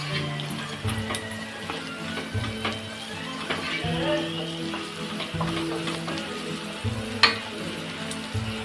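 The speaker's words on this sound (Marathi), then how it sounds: "मी ते चार मिरच्या घेतलेल्या आहेत कट करून तिखट आहेत त्या सुद्धा आपल्याला परतून घ्यायच्या आहेत" Four cut, hot green chillies sautéing in a pan for a radish stir-fry, a steady low sizzle with intermittent stirring clinks and one sharper knock near the end.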